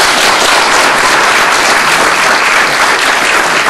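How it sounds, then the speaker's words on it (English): A loud, dense round of applause fills a college auditorium, a continuous wash of many hands clapping at once, close and sustained without a break for several seconds. "So give yourselves a round of applause."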